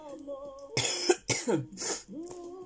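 A few harsh coughs in quick succession, close and fairly loud, separated by brief pauses with a faint tonal hum around them.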